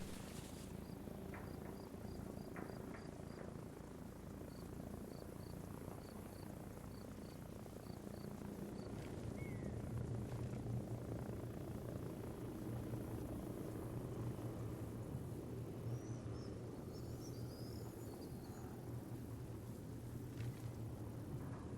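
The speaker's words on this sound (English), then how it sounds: "Oh no, that's a heli." A helicopter in the Arma Reforger video game drones steadily with a low rotor rumble that grows slightly stronger midway, distant and continuous, mixed with faint chirping ambience.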